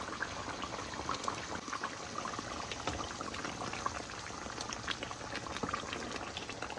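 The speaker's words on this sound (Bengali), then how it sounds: "এই যে খাসির মাংস আর একটু ঝোলটা টানায় ফেলবো।" Goat meat curry simmering in a pot as the gravy reduces, a steady dense bubbling and sizzling that stays even and moderately quiet throughout, with no talking.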